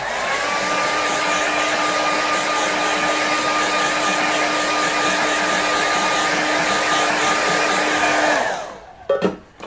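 A hair dryer blowing to dry a watercolour painting, a loud steady whirring hum held close for about eight seconds before it switches off, followed by a few faint handling knocks.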